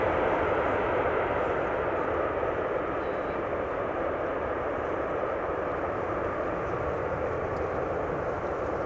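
An airliner lands at Amsterdam Schiphol with idle reversers, giving a steady broad roar of engine and rushing air that holds level and fairly loud for the whole stretch.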